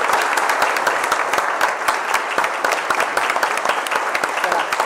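Audience applause after a Java project competition presentation, dense steady clapping from a crowd lasting throughout, fairly loud and close with no pause.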